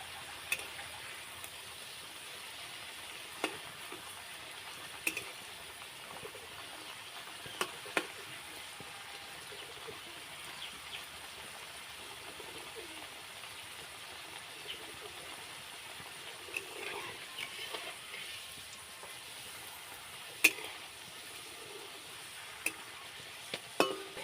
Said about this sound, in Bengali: হালকা হাতে নেড়ে চেড়ে ভেজে নিতে হবে।